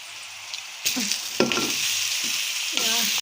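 Blended olive paste drops into a frying pan of hot oil, flaring into a sizzle in several bursts as it is added and stirred, close and fairly loud, with spoon scrapes between surges.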